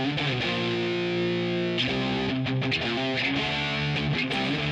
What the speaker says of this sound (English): so I recorded it with a real guitar,